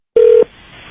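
A single steady touch-tone beep from a phone being dialed, loud and clean for about a quarter second, followed by a faint line hiss.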